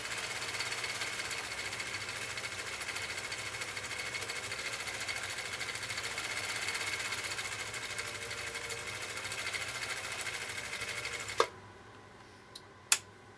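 A vintage Brother sewing machine runs a stitch pattern in a steady, rapid mechanical chatter that stops abruptly near the end, followed by a couple of sharp clicks.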